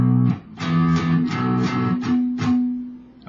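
Electric guitar playing the chord pattern of a song, a quick series of strummed chord hits in a steady rhythm, close and clear with no talking.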